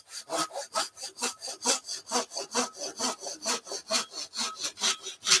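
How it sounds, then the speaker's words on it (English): A pull saw rasps through wood in quick, even back-and-forth strokes, close and steady, about three strokes per second. "these new pull saws work really quickly"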